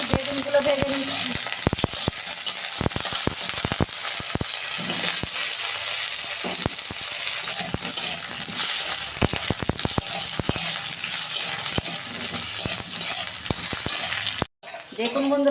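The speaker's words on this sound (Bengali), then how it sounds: "ওই তেলেতে আমি বেগুনগুলো ভেজে নিচ্ছি।" Eggplant pieces fry in hot oil, giving a loud, steady sizzle with crackling pops and occasional scraping stirs, close up and mostly free of talk.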